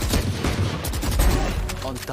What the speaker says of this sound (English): Another headshot through the structure.